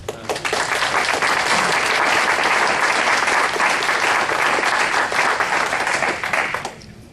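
A lecture audience applauds after a call to clap for Christ, a dense, steady wash of many hands that holds loud and even for several seconds before tapering off at the end.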